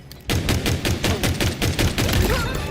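Rapid gunfire bursts in Halo Infinite multiplayer, a sniper rifle among the weapons, loud repeated cracks at a steady quick rhythm filling the whole stretch after a brief quiet start.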